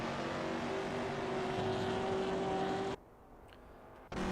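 Loud race cars on track at Calabogie Park, a dense wall of engine roar with a steady drone for about three seconds, then a sudden drop to near quiet before the engines cut back in.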